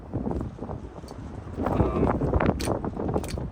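Outdoor wind buffets the microphone during a shooting session, producing broadband rumbling gusts that swell and fade throughout without speech.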